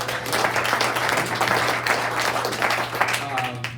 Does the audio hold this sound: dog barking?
no